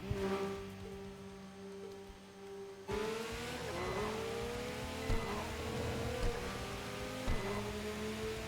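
A racing car engine in a video game, revving hard and climbing through repeated gear changes, each rise in pitch dropping and building again, a steady, close, loud whine with no one speaking.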